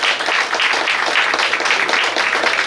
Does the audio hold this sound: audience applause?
yes